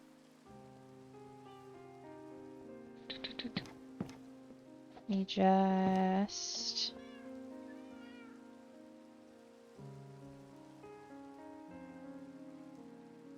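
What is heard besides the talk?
rain falling in a video game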